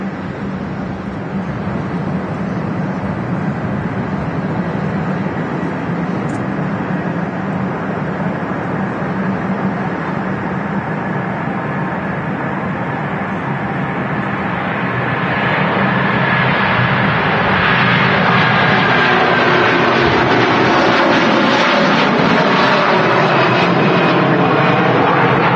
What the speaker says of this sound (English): here we go, 330 on the roll